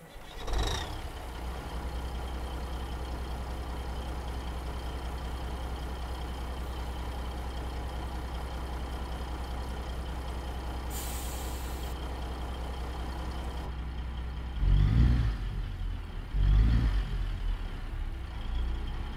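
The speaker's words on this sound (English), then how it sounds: "under the hood today, we are using ZMod's Cat 3406B engine" A Cat 3406B diesel in a Freightliner Argosy in American Truck Simulator cranks and catches, then settles into a loud, steady idle drone, with two heavy revs toward the end.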